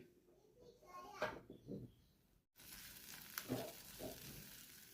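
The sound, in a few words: tomato paste sizzling in hot oil with masala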